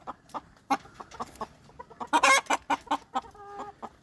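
Fayoumi hens cluck in short, close, irregular bursts from cages on a farm, with one louder squawking flurry in the middle and no talking.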